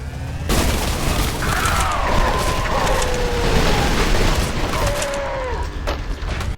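Grenade launcher explosions in the shooter video game Trepang2: a heavy boom opens, then a sustained roar of blasts and debris rumbles on for several seconds, loud and close, with whooshing tones sweeping through.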